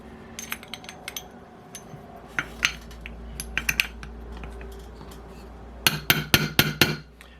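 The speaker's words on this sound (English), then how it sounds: "Might actually be able to tap this in with the wood dowel or my wood block" Sharp wooden taps drive a small bearing into its seat on a Thunder Tiger F54S model engine, scattered light knocks first, then a close, loud run of five or six firm strikes near the end.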